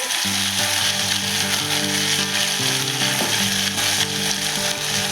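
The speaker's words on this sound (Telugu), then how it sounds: "కాకరకాయలు వేసేస్తున్నానండి." Small bitter gourds dropped into hot oil for a curry, a loud continuous close sizzle with a faint mechanical hum running underneath throughout.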